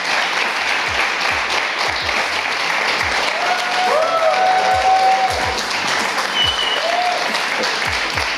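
Sustained, steady applause from a large audience fills the hall at a StarCraft 2 esports tournament quarterfinal, IEM Gamescom 2015, with a faint tonal game sound surfacing briefly underneath.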